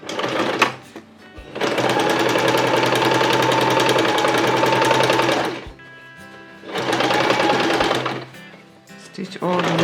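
A sewing machine stitching a seam on a gathered skirt with a double waistband runs in two long, loud, steady whirring bursts, close by, separated by a brief stop.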